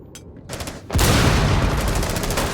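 A grenade in Rainbow Six Siege goes off with a sudden loud blast, and a dense roar carries on after it, nearby and dominant.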